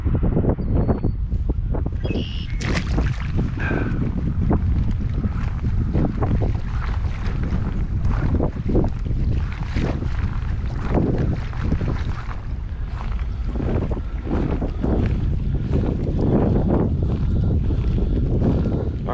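Strong wind buffets the microphone while lake water sloshes and slaps around a kayak in Indiana, a continuous rough roar throughout.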